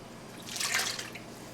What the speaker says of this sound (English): next we're going to add in our apple juice